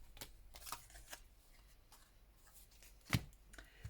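Paper cards are handled for a collage, a few soft rustles and light taps spread across a quiet room, with one sharper flick near the end.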